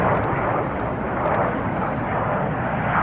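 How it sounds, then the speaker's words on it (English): Handley Page Victor aircraft flying, captured on old archive tape, giving a loud, steady, unbroken engine roar that fills the whole stretch with no voices. "Oh, the wonderful Victor. What a great aircraft"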